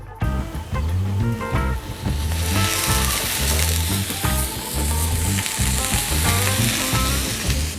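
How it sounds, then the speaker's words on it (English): Smoked burger patties sear on a hot flat-top griddle at medium-high heat, a loud, steady sizzle and crackle of frying fat running the whole time, close by with no talk. "Now it's time to give them a quick sear on the flat top."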